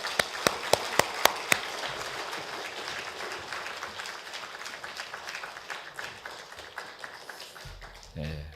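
Applause from a church congregation welcoming a speaker to a dawn Bible conference session opens with a few sharp, loud claps and then settles into a steady wash of clapping that fades gradually.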